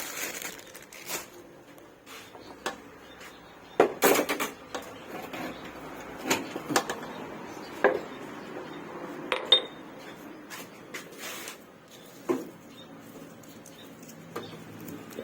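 Holy basil being stir-fried in a pan, with scattered metallic clinks and scrapes of a utensil against the pan over a low sizzle, close and fairly quiet, no talk.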